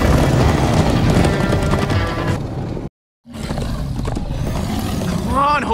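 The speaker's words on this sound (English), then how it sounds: "Come on, horses!" Horses galloping in the video game Minecraft: Story Mode, with steady hoofbeats under dense game music and effects, a brief silent gap midway, then the galloping and a rising whinny-like cry resume.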